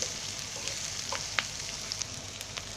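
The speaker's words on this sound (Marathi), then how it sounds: "आता त्याच्यामध्ये कांदा टाकते. आता कांदा चांगला भाजून घ्यायचा." Onions fry in oil in a pan for chicken keema, a soft, fairly quiet sizzle with occasional small pops and light stirring clicks throughout.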